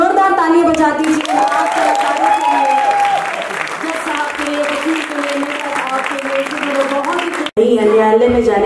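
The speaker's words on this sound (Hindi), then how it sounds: "पर जोरदार तालियां बजा दीजिए" Loud, steady audience applause fills a hall at a stage performance, with voices and music-like tones running through it, breaking off sharply near the end before resuming.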